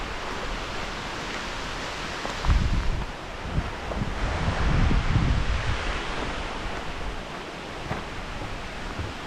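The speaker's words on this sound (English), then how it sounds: "It's so windy." Wind gusts roar across the microphone as a steady, loud rushing noise, swelling for a few seconds in the middle before settling back.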